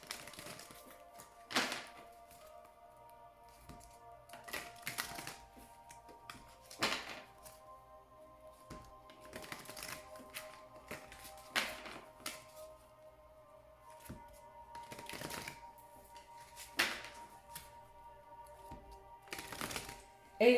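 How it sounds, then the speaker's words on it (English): Oracle cards are shuffled again and again in soft riffling bursts, spaced every couple of seconds, close and quiet against a faint background hum. "as I shuffle the cards."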